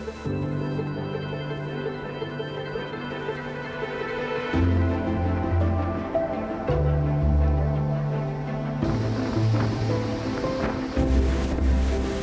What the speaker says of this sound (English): The wind's blowing like it's got something to prove.